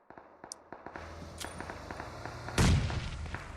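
Grenade going off during a PUBG Mobile match: scattered sharp gunshot cracks pop at a distance before one heavier, louder blast lands near the end and leaves a short rumbling tail.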